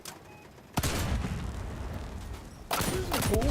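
Ammo crates detonating during a Crossout vehicle battle: a sudden loud blast followed by sustained rumbling roar, then a second explosion bursting near the end, heavy and close.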